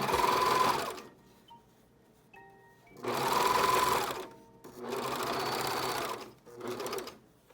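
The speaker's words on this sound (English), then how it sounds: "sew it all the way around." Nearby sewing machine stitches face mask seams in four short runs with quiet gaps between them, each burst a steady motor whir, no talking.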